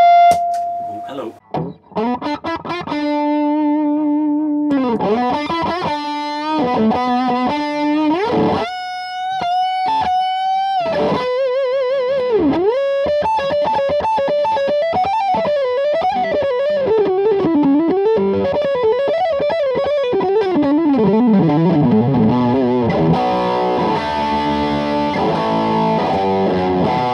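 High-gain electric guitar through a Valvette Custom Drive overdrive pedal on top of an already dirty amp, loud and close, with chugging chords, held notes and then a fast, winding lead run lasting nearly half a minute.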